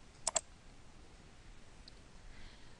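Two quick, faint mouse clicks close together at the start, then near silence, as a Windows computer's Start menu is navigated to open the Calculator program.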